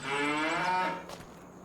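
Cattle in a farming game give one long, loud, drawn-out moo that fades into a quieter tail, close by with no talking over it.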